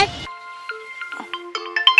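A mobile phone ringtone plays a short, bright electronic melody of stepped tones just after a brief noisy burst, heard close and clear in an indoor comedy skit.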